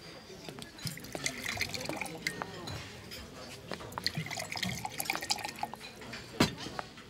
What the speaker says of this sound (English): Can I pour you a glass of wine?